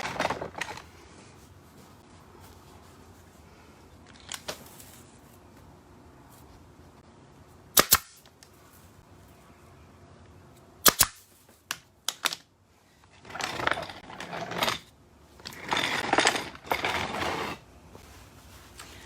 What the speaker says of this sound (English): first I'm going to put a couple more staples in the back because I don't want to pull it